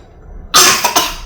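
A child coughs three times in quick succession, close and sharp, following a moment of near silence.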